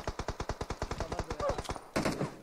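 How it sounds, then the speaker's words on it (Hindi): Rapid bursts of automatic gunfire in the PUBG Mobile battle royale game, a fast regular string of loud shots followed by a denser volley near the end. "ओह हो, और जगह से भी शॉट्स पड़ रही हैं।"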